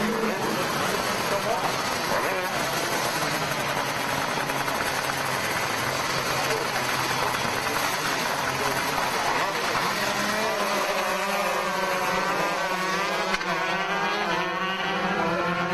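Shifter karts revving loudly together at a standing start for a 15-lap heat race, a dense engine roar filling the whole stretch with rising, wavering pitch toward the end as the pack pulls away, with a voice talking over it.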